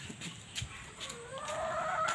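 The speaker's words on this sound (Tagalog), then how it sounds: "Ang daming mga chicken dito." Chickens kept on a rural property cluck softly in the open air on a calm morning, a few brief calls rising over quiet ambient noise with no one talking.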